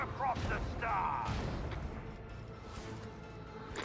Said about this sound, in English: Dorsal cannon. Goes down.